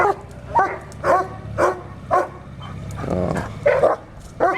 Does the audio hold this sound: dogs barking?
yes